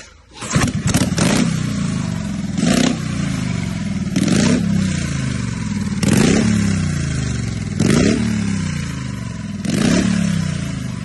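A one-off vintage motorcycle built in Colorado, the only known example, runs loudly up close, its engine blipped in a series of sharp revs roughly every two seconds over a steady idle.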